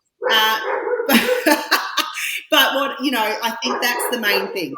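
A male pet dog barks from nearby while someone talks over it, the barking blending with the speech throughout.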